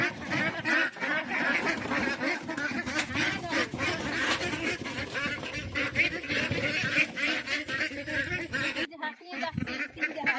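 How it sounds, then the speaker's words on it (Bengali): A crowd of domestic desi ducks at a household quack and honk continuously at close range, a busy overlapping chorus with people talking over it. "দেশি হাঁস না কাকিমা? এই দেখো কত হাঁস।"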